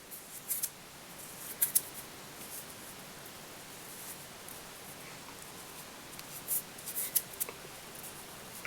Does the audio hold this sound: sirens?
no